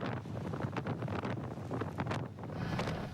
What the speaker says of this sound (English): strongest wind from Florence so far. Getting a horizontal rain just pelting us right now